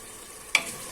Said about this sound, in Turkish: Etim kavrulmaya başladı.